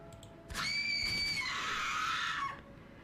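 Screams from the video game The Letter break out suddenly and hold as a loud, shrill, sustained cry lasting about two seconds before cutting off, with no speech.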